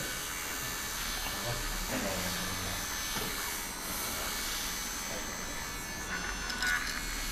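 A small desk vacuum cleaner runs in Japan, a steady whining motor hum with a hissing airflow, close and continuous with slight shifts in pitch.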